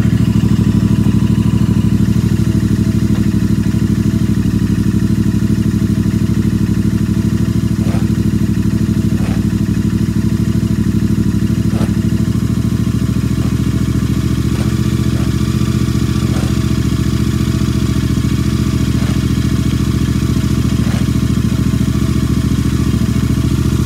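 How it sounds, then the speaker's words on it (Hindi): Engine of a GT motorcycle running steadily after a cold start, a loud continuous idle with a low rumbling drone and faint mechanical ticking throughout, no voices. "ये रही अपनी जीटी, कोल्ड स्टार्ट होती हुई, आवाज़ भी सुनो"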